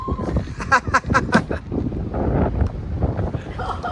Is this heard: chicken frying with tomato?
no